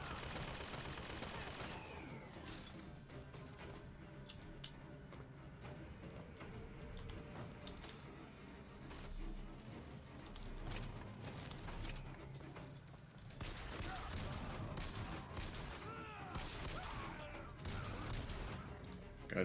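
Gunfire rattles through the video game Bioshock Infinite, faint rapid bursts and scattered shots layered over a busy game soundtrack, with occasional speech.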